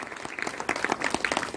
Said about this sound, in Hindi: आपके लिए तालियां जोर से।